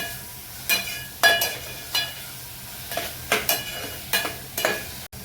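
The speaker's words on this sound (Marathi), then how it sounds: "थोडंसं मीठ टाकायचं छान परतून घेऊया" Tomatoes with salt sautéed in a pan for vegetable pulao: about eight distinct stirring scrapes at an uneven pace over a soft background sizzle, close and loud, with no talking.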